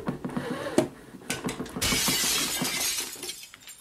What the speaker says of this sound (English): Who's dropped glass?